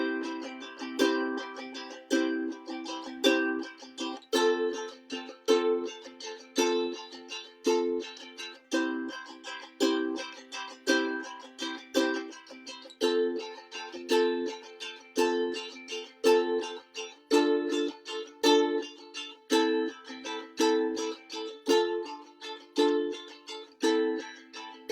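Ukulele strumming the bridge section of a song, steady rhythmic chords plucked and strummed alone, clear and close with a regular pulse of attacks and no talking.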